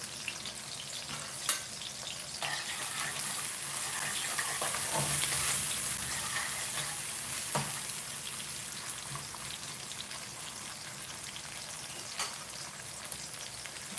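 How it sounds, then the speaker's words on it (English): Onion fries in a pan for Shahi Paneer Butter Masala, a steady close crackling sizzle like light rain, swelling slightly midway, with occasional sharp ticks and stirring knocks and no talking. "So this is my first step, is to fry onion."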